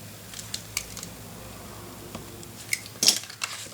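Scissors cutting a piece of material for a La Traviata memory box craft kit, a few quiet close snips and clicks in a still room with a sharper cut near the end.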